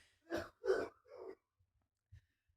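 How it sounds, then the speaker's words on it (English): A man gives three short, rough coughs in quick succession, close and fairly quiet, followed by a faint breath in near silence. "I don't know if you can hear him coughing."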